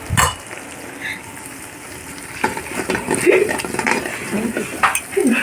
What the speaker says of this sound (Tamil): சிக்கன் மசாலா ஒரு 4 டீஸ்பூன் போட்டு நல்லா ஃப்ரை பண்ணி எடுத்துக்கோங்க